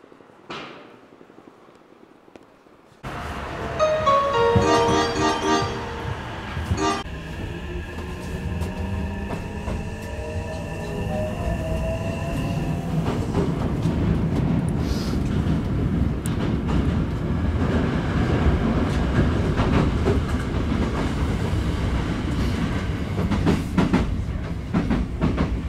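A Hankyu train ride of one station into Osaka Umeda, starting with quiet before a loud rumble, rising and falling motor whine tones and steady clattering wheel noise that continue throughout with no talking.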